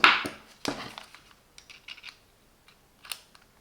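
A bit is pulled from the magnetic holder of a Parkside 4V cordless screwdriver, making a sharp plastic click and snap followed by a few faint, light taps and rattles, close by.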